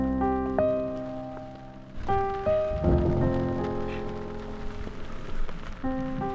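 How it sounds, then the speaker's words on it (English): Rain rolls in over a forest campsite in Manistee National Forest, a patter of drops on surfaces that swells and fades, mixed with sustained tonal sounds. "thunder and rain began rolling in"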